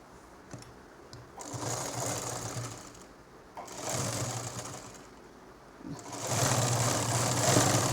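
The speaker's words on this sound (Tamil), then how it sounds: "இப்போ நாடா வச்சு தைக்கணும்." A sewing machine stitches tape onto a nightie in three separate runs, each a steady whirring hum of several seconds broken by short pauses, with the final run the loudest and closest.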